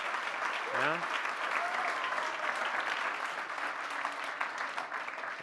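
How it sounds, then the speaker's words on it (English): A conference audience gives a round of applause, sustained dense clapping from a large crowd with a brief whistle or cheer near the start, steady and fairly loud throughout. "give these guys a round of applause for putting together such an awesome group"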